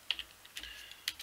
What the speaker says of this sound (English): I hate typing this word